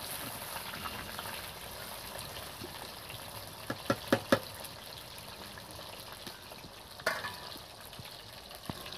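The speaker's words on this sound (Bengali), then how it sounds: "আর সরিষার তেলে ভাজা হচ্ছে দেখুন" Sweet potato and carrot fry in mustard oil with a faint, steady sizzle, broken by a few brief clinks of a utensil and a later scrape, all quiet and without talking.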